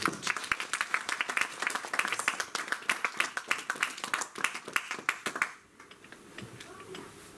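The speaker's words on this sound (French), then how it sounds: "Donnez une main d'acclamation au Seigneur" A church congregation claps for the Lord during a sermon, with crisp, rhythmic handclaps at close range that stop abruptly, leaving a quieter room with faint scattered sounds.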